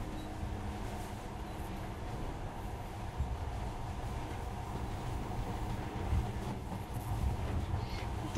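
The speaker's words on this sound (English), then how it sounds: "In the past, trains were ordinary things, but now this monorail seems magic, doesn't it?" Monorail train running in Metro Last Light, a steady low rumbling hum of the carriage in motion with faint rattles, constant and even throughout, no speech.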